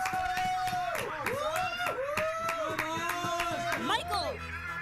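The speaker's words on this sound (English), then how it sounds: "Yeah, the clapping." Several sharp claps ring out over a baseball crowd at an Oakland at Boston Red Sox game, with a loud, sweeping whistle-like tone and busy voices throughout.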